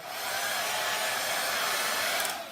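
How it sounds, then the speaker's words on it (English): A hair dryer blows steadily at close range to clear dust off a plaster chalkware piece, a loud, even whoosh lasting the whole moment. "We just take our blow dryers and blow all the hair off of everything"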